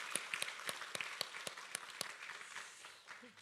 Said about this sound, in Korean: 이 시간 우리 박수로 다시 한번 영광 올려드리겠습니다